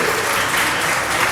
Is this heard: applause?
yes